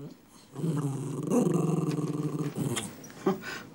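A dog growls low and rumbling in a couple of sustained bursts, close to the listener, with people talking around it.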